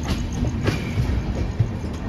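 An overnight express train pulls out of Narsinghpur railway station in the dark, with loud steady rumbling and rhythmic clickety-clack of wheels over rail joints, heard close from aboard.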